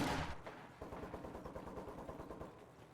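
Rapid, steady burst of Maxim machine gun fire in a WWII strategy video game, the rhythmic rounds sustained throughout at close, loud range.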